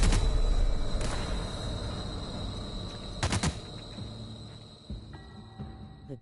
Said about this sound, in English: The gunfire covered your voice.